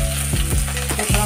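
Crushed ginger and green chili hitting hot oil with asafoetida, a loud, close, steady sizzle with quick rhythmic stirring strokes about every quarter second, no voice.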